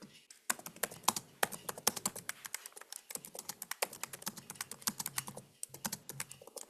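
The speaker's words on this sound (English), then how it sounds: "While he's typing" Quick, uneven clatter of keys on a computer keyboard, typed in bursts with short pauses, close by and without speech.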